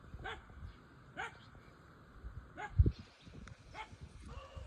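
Dogs at a farm field squabble in the distance, giving a few short, faint barks and yips with whimpering, spaced irregularly over quiet background noise.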